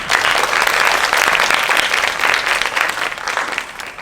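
A crowd at a school team presentation forum applauds Team Synergy, with loud, dense clapping that stays steady for about four seconds before tapering slightly.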